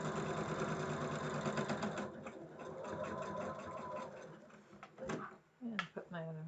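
A sewing machine stitches down a quilt block, a steady mechanical whir running for about two seconds, then short bursts and stops with clicks and handling noise toward the end.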